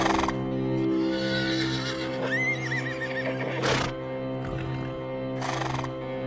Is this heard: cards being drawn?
no